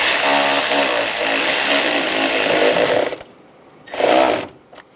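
A power tool whirs steadily, tightening fasteners while a radiator cooling fan assembly is fitted on a 2011-2018 Ram 1500, one long close buzzing run that stops, then a short second burst.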